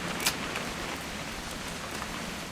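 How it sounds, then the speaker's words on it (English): Steady rain in the video game What Remains of Edith Finch, a soft, even hiss of falling drops throughout with one brief brighter patter near the start. "It's gonna rain the whole weekend, isn't it?"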